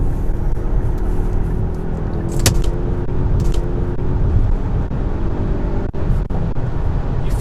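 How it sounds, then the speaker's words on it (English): A Hyundai Santa Fe Sport 2.0 Turbo front-wheel-drive SUV accelerates onto a highway, heard from inside as a steady, loud low engine drone and road roar, with a few brief clicks and thumps. "Let's do a real life test of getting on the highway."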